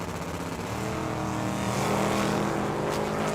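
A 1968 Mustang S10 roars down the drag strip at Tucson Dragway, a loud sustained engine howl with rising pitch as the car accelerates past, close and dominant throughout.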